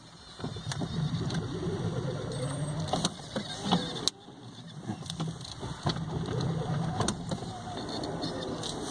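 Engine running after repair work, a fairly quiet low rumble with an irregular pulse, broken by sharp clicks and a brief drop in level partway through.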